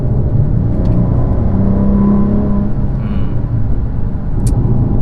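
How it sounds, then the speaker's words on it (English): 2017 Maserati Quattroporte engine accelerating in sport mode, a steady low droning rumble heard from inside the cabin, fairly loud, with no talk. "Nothing much better than an Italian motor. They just sing. I mean, it sounds fantastic."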